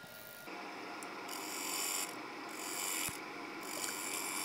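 A bowl gouge cuts into a spinning walnut plate on a wood lathe, a close, continuous rasping scrape that swells and eases in short passes.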